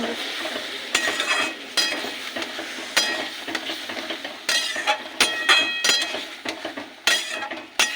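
A potato and pointed gourd curry with spices is sautéed in a pan, and a utensil scrapes and clinks sharply against the metal in an irregular run of strokes. A soft sizzle sits underneath, the sound is close, and there is no talk.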